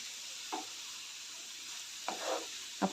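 Cabbage sautéing in a pan for a dal, onion and tomato cabbage bhaji, with a steady faint sizzle and three short scraping stirs, one near the start and two toward the end.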